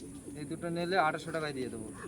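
Soft cooing of Giribaz pigeons, a few low throaty calls rising and falling, mixed with background voices and chatter nearby.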